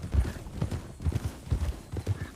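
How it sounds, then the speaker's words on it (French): Horse hooves clip-clop close by in a steady walking rhythm of loud, heavy thuds that continue throughout. "Des beaux chevaux."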